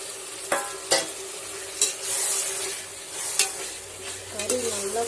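Country chicken pieces fry in a pan with a steady sizzle, while a spoon stirs and clatters against the pan in occasional sharp knocks and scrapes, up close.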